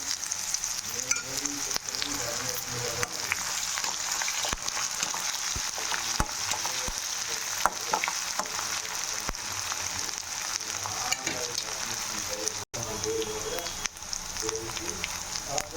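Crushed raw ginger and garlic frying in a hot pan for pulihora, a steady dense sizzle with crackling pops and occasional stirring scrapes throughout.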